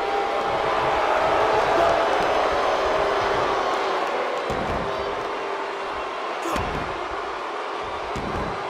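Arena crowd noise in the wrestling video game WWE 2K, a steady roar of cheering from a large audience that holds loud throughout, with a couple of brief thuds breaking through.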